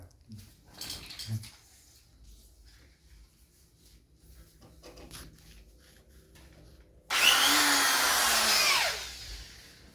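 A cordless drill whirs steadily for a couple of seconds while fitting a door knob, close and loud, after quieter handling noises, its motor winding down at the end.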